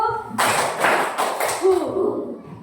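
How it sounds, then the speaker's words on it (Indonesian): A classroom of students bursts into the rhythmic 'tepuk semangat' clapping chant, a quick cluster of claps and voices that starts abruptly and fades after a second or so. "Coba tepuk semangat 1"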